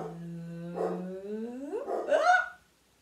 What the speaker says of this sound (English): Oh, that's my doggy in the background.